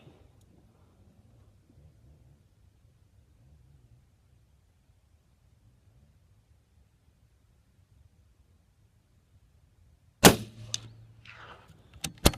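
A single subsonic .243 rifle round fired with a Trail Boss load, one sharp crack near the end after about ten seconds of near silence, followed by a brief faint clatter.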